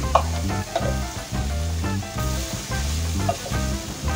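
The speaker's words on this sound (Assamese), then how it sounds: "বুট মটৰখিনি দি প্ৰায় 5 মিনিট মান মই ভাজি ল'ম এনেকৈ পানী নিদিয়া কৰি" Chickpeas and peas sizzle and crackle in a hot pan over a low gas flame without water while being stirred, with rhythmic scraping strokes of a spoon against the metal.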